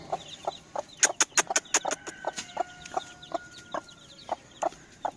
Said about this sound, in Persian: دوستان داخل این باغ چه جوجه قشنگی. ننش. الان میخواد بیاد با من دعوا کنه.